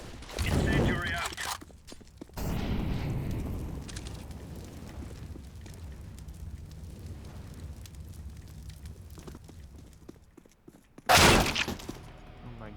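In CS:GO, an incendiary grenade is thrown and bursts with a sharp shattering crash, then a crackling burn continues, with another loud burst near the end and players talking in the background.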